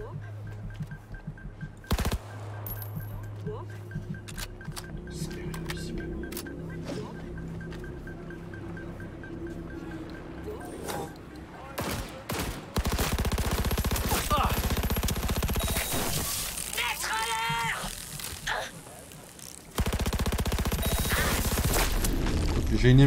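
Gunfire in the video game Cyberpunk 2077, with loud bursts of automatic fire, single shots and crashing impacts that grow denser and louder in the second half, under and between excited talking.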